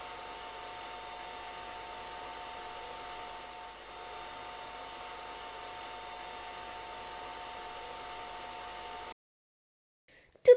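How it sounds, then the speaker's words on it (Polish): Hair dryer blowing steadily to melt a thick layer of ice, a continuous close whooshing hiss with a faint whine that runs alone for about nine seconds, then cuts off into near silence before a brief click. "Trudno jest nam stopić tą grubą warstwę lodu Icy za pomocą suszarki."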